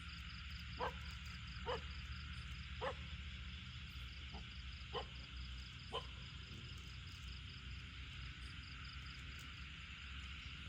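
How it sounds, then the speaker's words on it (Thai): Several faint dogs bark in short single yaps at night, spaced a second or so apart and far off, over a steady bed of insect or frog chorus, with no talking. "มันมีเสียงหมาเห่าด้วยทุกคน"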